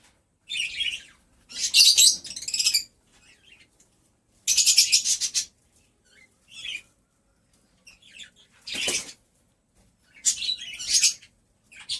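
Pet lovebirds and budgerigars around a clay nesting pot squawk and chirp in close, loud bursts with short pauses between, no voices present.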